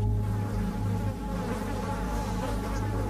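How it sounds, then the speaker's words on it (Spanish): A dense, steady buzzing of many flies swarming close by, a continuous droning hum with no pauses or voices. "Una nube de moscas flotaba por todo el final de la pieza"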